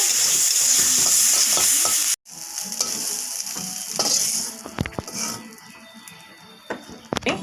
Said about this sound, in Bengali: মাথাগুলো নিচ্ছি, লাল লাল করে ভেজে নেব